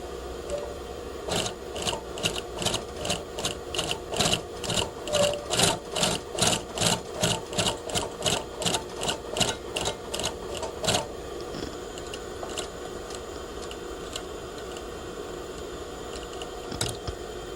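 A sewing machine stitches a pocket in a fast, even run of about two dozen rhythmic needle strokes, then stops abruptly, leaving a faint room hum.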